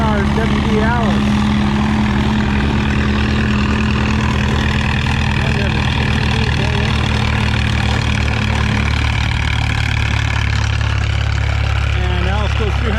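An Allis-Chalmers WD tractor pulls a sled at a tractor pull, its engine droning loud and steady throughout while an announcer talks over it.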